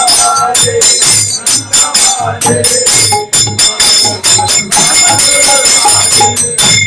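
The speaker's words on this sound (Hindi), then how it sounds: "शंख बाजे घंटा बाजे मधुर मधुर मधुर बाजे" A temple bell rings in rapid, loud, steady strokes during a festive ISKCON temple service, layered over music and chanting.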